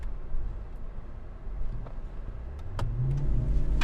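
A 2026 Mercedes-Benz GLE 580 pulls away from a stop in comfort mode at about one-third throttle, its engine rumble building steadily from a low idle into a rising, heavier drone heard from inside the cabin, with no talking.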